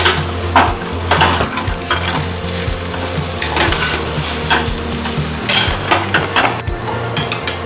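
A spoon scrapes and stirs a mashed potato mixture for aloo chop in a frying pan, with irregular clanks against the metal over a soft sizzle, close and fairly loud.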